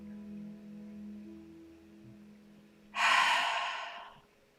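Slow, deep exhale during a pilates stretch, one long breath out standing above a low steady hum, close and soft, no talking.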